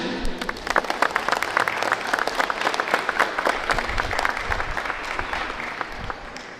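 Audience applause at the inauguration of a Tecnológico Nacional de México campus in Tlahuitoltepec Mixe, a dense steady round of many hands clapping that carries evenly across the whole stretch, with no talk over it.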